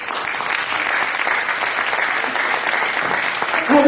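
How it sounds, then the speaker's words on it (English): Sustained applause from an audience at an awards ceremony honouring a speaker, a dense steady wash of many hands clapping with a slight swell near the end and faint voices over it. "may I request a big applause for our Sir Joseph De Leon for his unconditional love"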